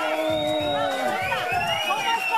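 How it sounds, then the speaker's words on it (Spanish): A television talk-show studio audience cheers and shouts loudly, a dense crowd roar with whoops and raised voices throughout the short burst. "Un aplauso para Armida."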